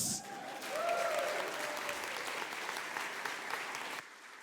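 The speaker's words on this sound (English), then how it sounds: "I'm expecting a louder round of applause." Loud round of applause from an audience at a motivational leadership talk at a resort, dense sustained clapping that swells early, holds steady, then drops off abruptly near the end, with a brief voice at the start.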